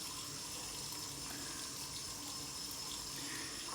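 Steady running tap water splashing into a sink during rinsing, a constant even hiss and trickle with no voices over it.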